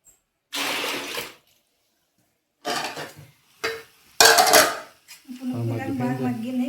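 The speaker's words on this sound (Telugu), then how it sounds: "ఏ కడుగుతున్నావు రోలు?" Water splashing and sloshing over a stone grinding mortar (rolu) as it is rinsed, in several separate bursts followed by a steadier stretch of pouring or scrubbing with scraping, all close by.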